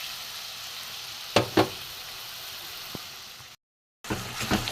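Pea pod paste and spices stir-fried in a hot pan make a steady sizzle, with a few sharp spatula scrapes and knocks, then a brief silent gap before the frying resumes.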